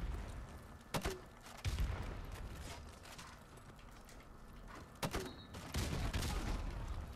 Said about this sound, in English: you're just getting pummeled with grenade launchers